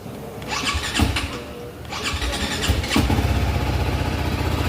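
A TVS Apache RR310 sport motorcycle engine cranks and catches after a couple of tries, then settles into a steady, close rumbling idle.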